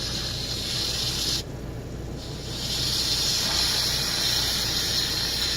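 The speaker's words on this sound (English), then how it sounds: "so now we're going to do a quick release of the pressure" A pressure cooker venting steam during a quick pressure release in an RV kitchen, with a towel draped over the valve: a loud, steady, close hiss that dips briefly partway through, then surges back and holds.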